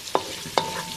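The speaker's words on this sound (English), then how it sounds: "I'm gonna fry this until it's nice and crispy and golden brown." Seasoned Spam frying in a pan gives off a soft sizzle, broken by two sharp clacks of a utensil stirring or tapping, close and quiet with no voices.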